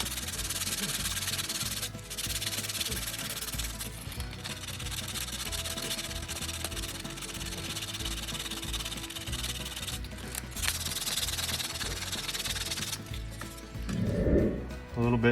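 Sandpaper rubbing steadily across a Tamiya Blitzer Beetle RC car body, a continuous close scratchy hiss with brief pauses and a short handling noise near the end.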